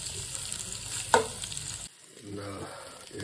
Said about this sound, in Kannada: ಸ್ವಲ್ಪ ಈರುಳ್ಳಿ ಕೆಂಪಾವರೆಗೂ ಹುರ್ಕೊಳ್ಳೋಣ